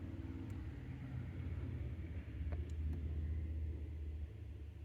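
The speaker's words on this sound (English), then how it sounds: "I hear the motor." Cooling fan motor on a 2013 Cadillac ATS that has been overheating, heard as a low, steady hum and rumble at moderate distance, with no talk.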